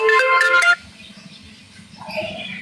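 A phone ringtone plays as a bright burst of melodic beeps that cuts off, then low murmuring and a faint tone follow.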